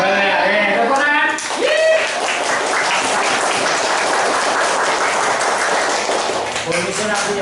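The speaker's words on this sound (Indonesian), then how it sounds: "Tepuk tangan" A burst of clapping from a classroom of students starts after a couple of spoken voices and continues steadily to the end, close and fairly loud.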